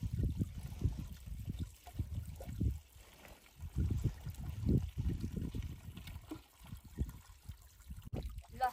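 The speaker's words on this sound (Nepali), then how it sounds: "रावा खोलाको मुहानको पानी थाप्दैछु" Spring water trickles and splashes at the source of the Rawa river on a mountain trail, an uneven low burbling and gurgling close at hand, rising and falling steadily with no talk.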